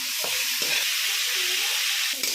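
Mixed vegetables sauté in a kadai for pulao, giving a loud continuous sizzling hiss broken by a few stirring scrapes of the spoon against the pan.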